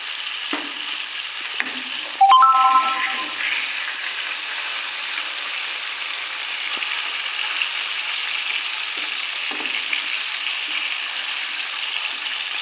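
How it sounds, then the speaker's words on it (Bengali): Cauliflower pieces fry in hot oil in a karahi, a steady, even sizzle throughout, briefly broken by a louder clatter of utensil against the pan early on. "এইভাবে কপিগুলোকে সুন্দর করে ভেজে নেব।"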